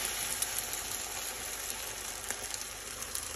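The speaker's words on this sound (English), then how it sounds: "Egg and cheese mix goes in." Egg and cheese mix sizzles steadily in a frying pan, a close, even crackle with a few sharper pops and no talk, cooking for a homemade cheeseburger-style cheese omelette.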